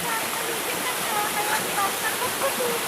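Fresh, clear spring water rushes steadily where it is partly dammed into a bathing pool, a continuous near hiss of flowing water throughout.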